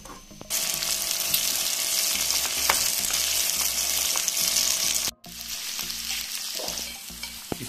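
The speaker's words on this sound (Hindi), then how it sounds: "इसको हम करते हैं शैलो फ्राई" Capsicum, carrot and cabbage shallow frying in oil, a steady dense sizzle running throughout with a brief break near the end before it resumes, and faint tonal hums beneath.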